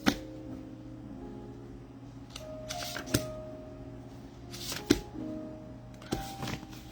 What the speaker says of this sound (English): I'm gonna shuffle because I don't.